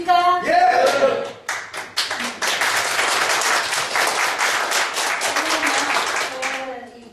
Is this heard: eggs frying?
no